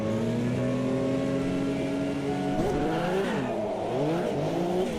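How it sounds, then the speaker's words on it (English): Group C Porsche prototype in a racing video game, engine revving hard through wheel spin with rising and falling whines and a gear change midway, loud and steady throughout. "Oh, a bit too much wheel spin for me there"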